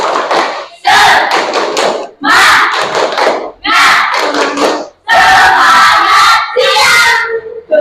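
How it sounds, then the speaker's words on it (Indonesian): A class of pupils performs a rhythmic spirit clap chant in a classroom, with loud bursts of group clapping and shouting in repeated patterned phrases separated by brief pauses. "Tepuk semangat."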